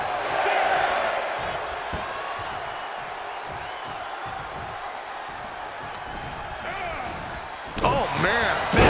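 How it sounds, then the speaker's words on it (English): Wrestling arena crowd from WWE 2K24 roars in a steady wash through the whole stretch, with a louder burst of cheering and excited voices near the end. "The crowd is fired up"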